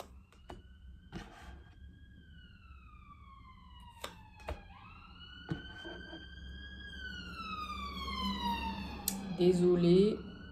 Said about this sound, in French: si vous avez entendu la sirène